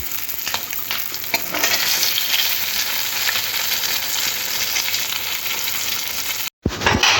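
Two medium sliced onions frying in the same hot oil used for fish, a loud continuous sizzle with scattered crackles and stirring, briefly cut to silence near the end before the sizzle returns.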